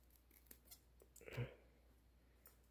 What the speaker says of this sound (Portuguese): vou tirando a tesoura.